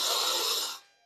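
A single deep breath drawn in through the nose during a low-impact cardio workout, loud and close with an airy rush that fades out near the end.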